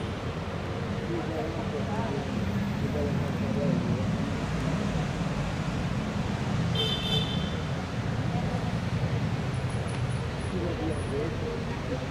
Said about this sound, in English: Lots and lots of traffic in Naples.